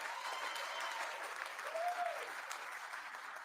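Indoor audience at a district attorney's event gives a steady round of applause, moderately loud and sustained, with a brief whoop or cheer rising above the clapping midway.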